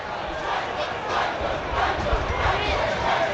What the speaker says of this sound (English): the crowd don't like it, that was for sure. You can hear that.